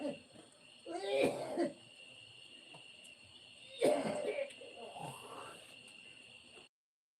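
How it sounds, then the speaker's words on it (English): Two separate bouts of harsh, throaty coughing from one person sound close and fairly loud, each followed by quieter breathy throat noise, over a constant high electronic whine. "Yeah, just coughing."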